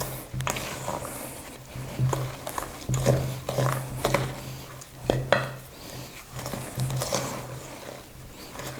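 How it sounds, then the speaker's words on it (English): Biscuit mixture with nuts, for anise tozzetti, is stirred in a bowl: repeated scraping and knocking strokes, close and moderately loud, with soft clinks of utensil against the bowl. "we want to give everything a jolly good stir"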